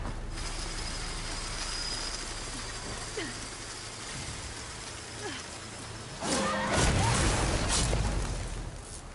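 A robotic machine creature from the video game Horizon Forbidden West moves with steady mechanical clicking and whirring over a dense game backdrop, swelling into a louder, heavier burst of clatter near the end.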